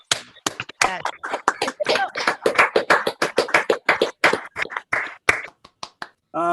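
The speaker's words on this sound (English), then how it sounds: "Please give a round of applause to this man." Audience applause for Bill Edwards at a songwriter showcase, a room of hands clapping in quick, fairly sparse bursts that thin toward the end, with a brief voice at the close.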